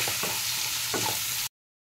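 Ground masala paste of onion, garlic and ginger sizzles loudly in a pan of chole, giving a dense, continuous fry with a couple of stirring scrapes before cutting off abruptly.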